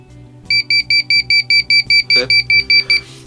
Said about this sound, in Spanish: Esa es la función de este tipo de indicadores de voltaje con sonido.